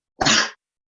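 A single short, sharp sneeze, close and loud, followed by silence.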